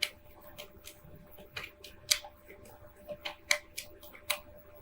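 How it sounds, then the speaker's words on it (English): Tarot cards being shuffled by hand during a love reading, giving a run of soft, irregular papery flicks and riffles at close range with no talk. "let me shuffle here with these, call them my clarifying cards"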